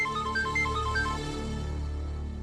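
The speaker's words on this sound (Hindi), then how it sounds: "देख, कमिश्नर का फोन है, खुद मुझे फोन करते हैं पर्सनली।" A mobile phone's ringtone chirps a quick melodic pattern of beeps for about a second, then fades. It is fairly quiet against a soft background hum in an indoor drama scene.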